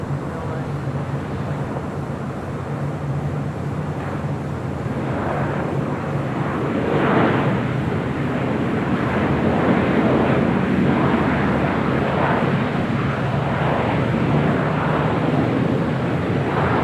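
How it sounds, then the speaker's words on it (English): An Emirates airliner takes off from runway 24 left at Los Angeles International Airport, a steady broad jet roar that swells gradually and holds strong and sustained throughout. "runway 24 left, cleared for takeoff."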